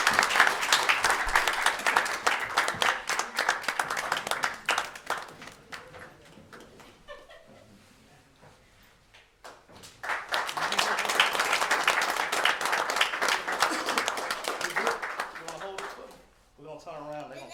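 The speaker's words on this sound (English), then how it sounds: "if y'all would give my big buddy a big round of applause" An audience claps loudly for a young boy named Chandler, two strong bursts of applause with a quieter lull between them and a faint voice near the end.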